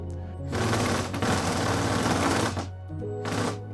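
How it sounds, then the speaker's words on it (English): A power screwdriver whirs with a rattling, buzzing grind while driving screws into a homemade wooden diffuse frame, two close bursts with a longer first run, no talk. "I know that the screwdriver isn't supposed to make that sound"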